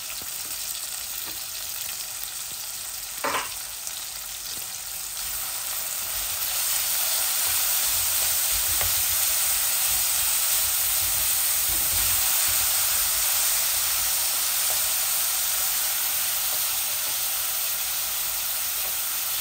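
Onions of two kinds sizzle in a pan while dried churi fish and data greens are being cooked, a steady broad hiss lasting throughout that grows a little louder midway, with a brief clatter early on and no talk.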